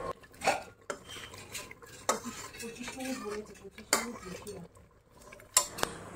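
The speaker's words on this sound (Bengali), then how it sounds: "এই যে প্রেশার কুকারে এটা ঢেলে নেওয়া হচ্ছে।" Mutton is poured into a pressure cooker while cooking, with metal clatter, scraping and a few sharp clanks of a spoon against the pot at irregular intervals, close and moderately loud.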